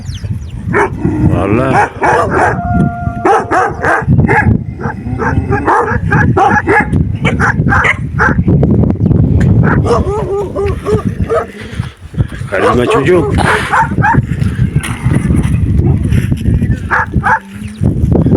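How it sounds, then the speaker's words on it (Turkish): Around thirty dogs, including a Kangal, bark in a loud, busy chorus, yips and whines mixed in, while people talk and laugh over the noise throughout. "Bayağı bir köpek atmışlar arkadaşlar."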